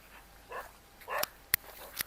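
A black dog in wheat fields at night lets out two or three short, sharp barks and yips at moderate distance, spaced apart against quiet surroundings.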